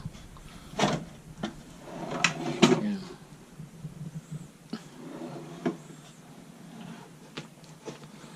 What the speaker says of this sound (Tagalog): Maganda kasi hindi siya bigla nagsasara. Unti-unti siya magsasara.